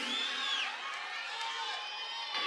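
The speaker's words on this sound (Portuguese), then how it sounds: "Palmas para o Vinícius." A studio crowd at a televised Christian rock concert special cheers and shouts in a dense, steady roar that holds for a couple of seconds, with a high whistle-like whoop rising early on.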